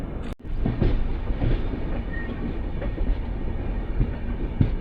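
Mandovi Express train rumbling along the tracks near Karmali station, a steady loud roar of rolling wagons with faint clickety-clack beats, after a brief dropout at the start.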